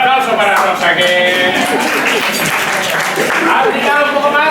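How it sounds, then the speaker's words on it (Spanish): An audience at a talk on thinking tools claps for a participant named Rosa, a moderate patter of hands mixed with voices and some laughter under it, steady over several seconds. "un aplauso para Rosa"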